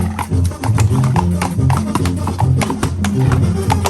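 Dancing horses' hooves clop in a quick, steady rhythm over a low, continuous tonal backdrop, close and fairly loud, in La Noria, Mexico.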